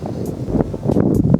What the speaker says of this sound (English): I know it's kind of windy out here